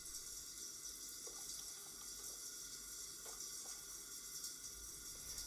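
A shower runs in The Sims video game, a steady, hissing spray of water that holds evenly throughout with faint small knocks, and no voices.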